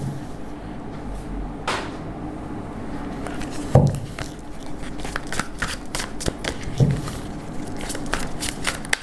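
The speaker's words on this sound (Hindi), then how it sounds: "एंजल्स की तरफ से हम लेंगे कुछ और कार्ड्स।" Tarot cards are shuffled close by for a reading, a steady riffling and slapping of the deck with a few heavier knocks and no voices.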